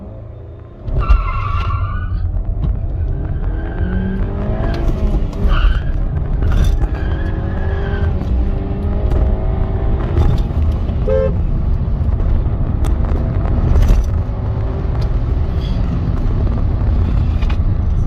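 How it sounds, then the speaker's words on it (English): Tuned Skoda Laura on a Stage 1 tune launching hard with traction control on: a loud, steady engine roar builds through the gears, with tire chirps and brief horn-like tones over continuous road noise. "So we're all set to launch the car."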